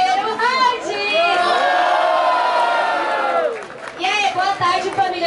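Large crowd roaring, cheering and shouting at a Brazilian rap battle event, loud and sustained for several seconds before breaking into scattered whoops and chatter, with a host's voice over it at the edges.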